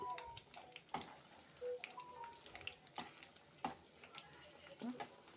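Food being stirred in a pan during home cooking while it simmers, with soft scraping and clinking strokes at an irregular pace, fairly quiet and close, with faint background noise.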